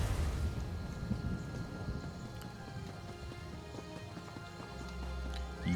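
A horse gallops in the Elder Scrolls Online fantasy game, its hooves beating a steady, busy clip-clop under a soft, rain-like hiss and low game ambience, at a fairly quiet level throughout.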